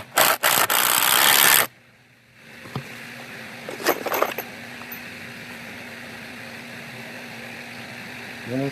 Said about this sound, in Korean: 최대한 직각에 맞게 피스를 먼저 박아줍니다